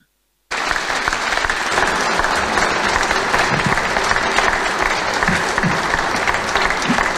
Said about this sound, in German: Ich will klatschen.